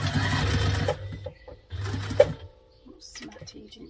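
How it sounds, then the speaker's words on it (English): A sewing machine stitches across the fabric lining of a sling bag in two steady whirring runs with a pause between, then stops while a person talks quietly. "we are just going to stitch across the top using the seam allowance stated in the pattern"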